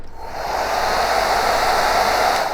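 A Xiaomi Mi Ionic hair dryer runs steadily on its lowest setting, a soft even whoosh of air with a faint high whine, close by and with no talking.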